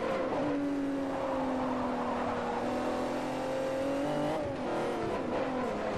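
A race car engine in Forza Motorsport 4 drones at high revs throughout, a steady loud whine that climbs slightly, dips around a gear change, then picks up again, with no talk over it.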